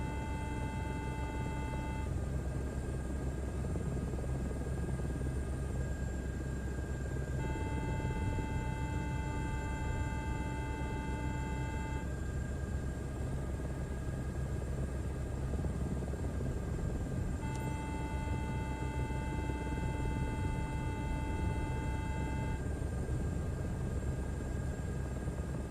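A helicopter in a video game flies with a steady, droning rotor and engine hum, with a high electronic tone sounding in repeated bursts over the constant engine noise, no talk.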